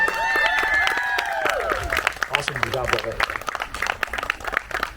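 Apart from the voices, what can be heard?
concert audience applause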